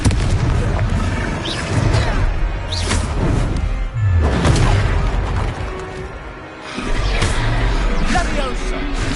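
Confringo blasting spells explode in a Hogwarts Legacy battle, each cast landing as a heavy boom with crashing debris, several bursts over continuous combat noise, with voices shouting amid the fight.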